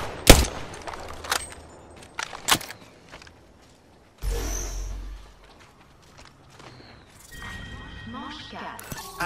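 Enemy gunfire in Apex Legends, heard as sharp separate shots near the start and around 2.5 seconds, then scattered game sounds and effects with no talking.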